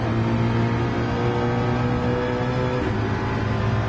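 Mustang race car engine screaming at Interlagos in a racing video game, a loud sustained high-revving drone holding steady throughout.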